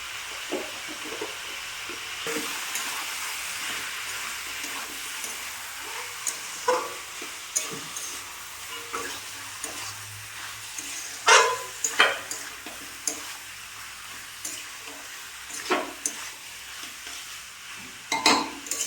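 Chicken and potatoes with salt and turmeric are stir-fried in a pan for kosha, with a soft continuous sizzle under repeated scraping and stirring strokes and a few louder clanks from the spatula near the end.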